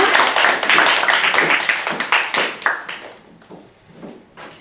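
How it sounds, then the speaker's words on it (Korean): An audience at a high school freshman strategy seminar claps loudly and densely, then the applause thins into scattered claps and fades out toward the end. "큰 박수 부탁드립니다."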